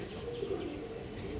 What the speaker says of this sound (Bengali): দেখুন পায়রা দেখুন